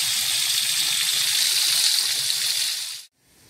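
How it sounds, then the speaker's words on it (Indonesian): Dried fish, including ikan sembung, fries in hot oil until crispy, producing a loud, steady, close sizzle that cuts off abruptly near the end. "Goreng sampai garing."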